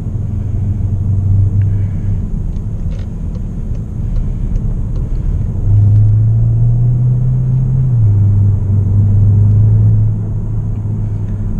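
VW Arteon R-Line 2.0 TDI 240 HP diesel car engine pulling with steady low rumble, drone rising in pitch and holding as it accelerates, heard from inside the cabin with no talking.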